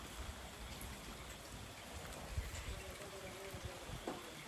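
Steady rain falling over farmland in the evening, a dense, even hiss of drops that holds at one level with a few louder patters close by.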